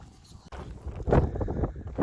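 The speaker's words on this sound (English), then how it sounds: "It's very windy here." Strong wind on Santorini island buffets the microphone in rough, uneven low gusts that roar louder in the second half.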